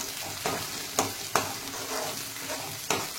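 Onion-tomato masala sizzles steadily in plenty of oil for matar paneer while a spoon stirs it, with a few sharper scraping strokes against the pan over continuous close frying.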